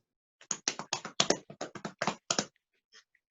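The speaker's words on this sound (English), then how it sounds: "Peter leads them all in a round of applause." A small audience at a staged reading of a play gives a short burst of quiet, scattered clapping that lasts about two seconds and then trails off into silence.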